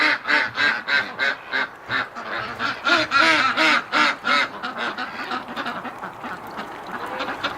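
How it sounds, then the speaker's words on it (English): Ducks on a winter outing quack loudly and repeatedly in a dense, overlapping chorus close by, the calls pulsing steadily throughout with no talking. "Alright, ducks, I'm coming to get you water."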